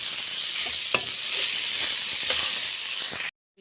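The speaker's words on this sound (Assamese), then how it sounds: "মই এনেকৈ লৰাই ভাজি দিম।" Fish heads stir-frying in a hot pan for a Borali fish head dish, a steady close sizzle throughout with a few sharp clicks of a spatula against the pan, then cutting off abruptly.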